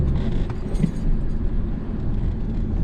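A car's engine drones steadily under acceleration during a driving lesson, a loud, close, low rumble heard from inside the cabin, with a faint metallic jingle early on.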